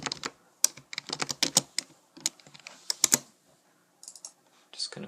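Someone types a folder name on a computer keyboard in quick bursts of crisp, close key clicks with short pauses between words.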